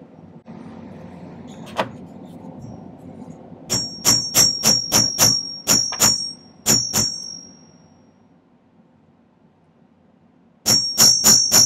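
Hammer blows on silver being flattened and flared for a pendant, a steady run of about ten sharp metallic strikes, then a pause and a few more close, ringing hits.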